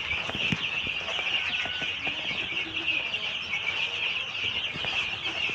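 Young Tiger breed chickens about 25 days old keep up soft, continuous clucking and chirping from a flock close by, over a steady background hum.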